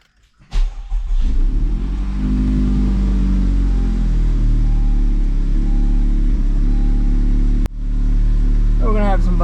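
A Honda Civic FK8 engine cranks and catches after a transmission rebuild, then settles into a steady, close idle with a brief dip in the middle, and a voice is heard near the end.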